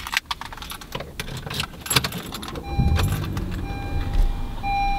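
Keys jangle and rattle up close before a car is switched on with them. A low engine hum follows, along with steady electronic dashboard chime tones.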